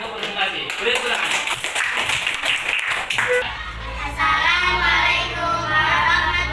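Schoolchildren in a classroom clap for a group stepping up to present, a brief burst of hand clapping over the first few seconds before voices take over and talking fills the rest.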